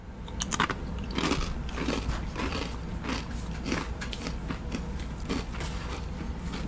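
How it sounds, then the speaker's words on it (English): Someone bites and chews crunchy chips spiced with Carolina Reaper peppers, making repeated close, crisp crunches and crackles in a steady chewing rhythm with no talking. "Those are some crunchy chips"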